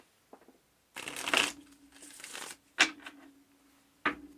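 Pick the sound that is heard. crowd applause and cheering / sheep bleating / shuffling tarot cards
shuffling tarot cards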